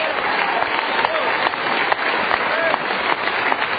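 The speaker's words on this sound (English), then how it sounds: "Clap your hands, church." A church congregation clapping hands during a sermon, dense continuous applause filling the whole stretch at moderate loudness.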